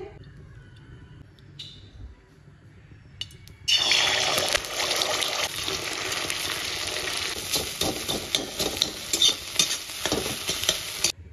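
Salted potatoes dropped into hot oil, with quiet kitchen handling at first and then a sudden loud burst of frying that settles into a steady sizzle with stirring clatter.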